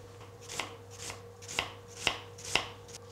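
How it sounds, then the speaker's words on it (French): A knife finely chops an onion on a cutting board in a home kitchen, five or six crisp, evenly spaced cuts at a relaxed pace with a low hum behind and no talk. "Je cisèle finement mon oignon."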